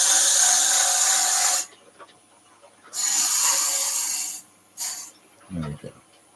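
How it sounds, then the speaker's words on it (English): A power drill bores into wood while turning thimbles on a lathe, in two sustained whirring bursts followed by a shorter one, with quieter gaps between and a brief knock near the end. "we've done a lot of the work with that drill, and it was nice and quick as well"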